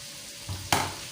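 Onions dropped into hot, well-roasted spices in a pan: a soft stirring rustle, then a sudden loud sizzle as they hit the oil, settling into steady frying.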